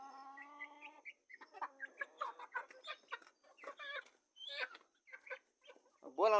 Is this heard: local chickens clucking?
yes